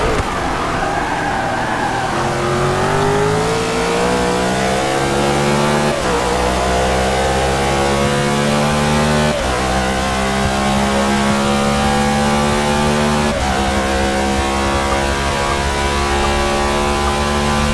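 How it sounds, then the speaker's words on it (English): Race cars, one of them an Audi, roar past in a pro-series race, engines loud and sustained with rising and falling pitch as they accelerate and shift, several cars overlapping close by with no talk. "Sarvarius in that Audi jumped out to a nice lead, and he's just taken off at the moment"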